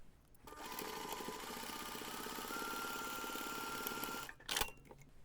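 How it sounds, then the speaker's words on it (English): A sewing machine stitches a seam in one continuous run of rapid, even mechanical chatter, close and fairly quiet. It stops abruptly, followed by a short clunk and a rustle. "Now we're going to take this to the machine and we're going to sew the seam using 1 cm seam allowance."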